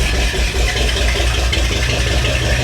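A Chevrolet small-block 350 V8 runs just after starting, a loud, close, low rumbling idle with a steady pulsing rhythm and no talking over it.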